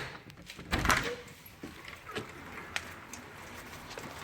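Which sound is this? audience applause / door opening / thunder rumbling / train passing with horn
door opening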